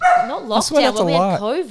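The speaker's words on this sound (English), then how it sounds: "Our dog is just barking" Pet dog yipping and whimpering indoors, a quick run of high, wavering barks overlapping loud conversational speech close by.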